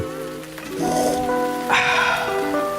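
A rain sound effect in a Dunkin' coffee radio ad: a steady, close hiss of rainfall runs underneath soft sustained musical tones that swell partway through.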